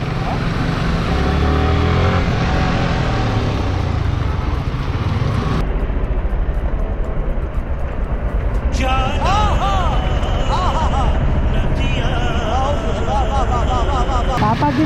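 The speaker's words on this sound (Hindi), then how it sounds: "मैं जानबूझ के ना गियर कम रख के आवाज़ ज़्यादा करता हूँ बाइक का" A motorbike engine revs hard in a low gear on a road, loud and close throughout with rising and falling whines, while voices talk over it in the middle stretch.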